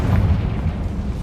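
A Confringo spell explosion in the game Hogwarts Legacy lands as a loud, deep booming burst with a rumbling low-end tail, close and brief, with no talking over it.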